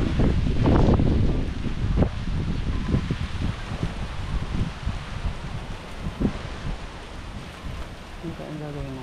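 Strong gusting typhoon wind, still without rain, buffets the microphone in heavy rumbling bursts, with rustling and a few faint voices underneath.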